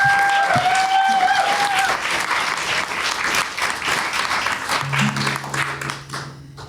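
A loud round of audience applause at a French concert stage show, dense and continuous throughout, with brief whistles and cheers early on and a low tonal hum near the end.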